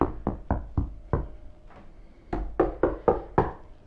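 Knuckles rap on a car door's sheet-metal skin with a hollow, resonant tone: a quick run of five or six knocks, a couple of scattered taps, then another rapid cluster of five. The knocks are close and there is no speech.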